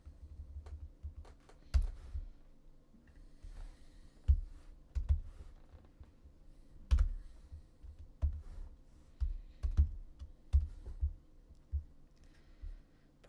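Fingers tap on a computer keyboard at a desk while studying for the MCAT, with irregular quiet clicks and occasional heavier thumps close to the microphone, and no one speaks.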